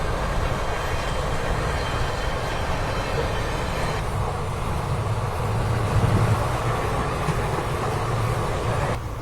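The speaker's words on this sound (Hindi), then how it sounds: "ये जो आप ट्रेन देख रहे हो ये पटना राजधानी है" Patna Rajdhani express train running alongside on a parallel track after Prayagraj, a continuous loud rolling rumble and rushing noise heard from inside a moving train, steady throughout with slight shifts in texture.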